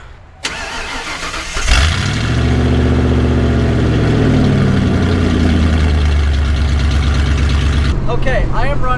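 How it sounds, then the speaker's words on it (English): A pickup truck engine cold-starts with a cranking burst, catches and settles into a loud, steady close-up idle that runs for several seconds before cutting off, followed by a short bit of talking. "Cold start."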